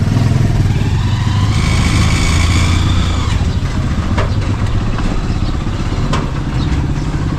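A motorcycle engine idles close by with a steady, rough low rumble and light mechanical clatter, running alone without talk.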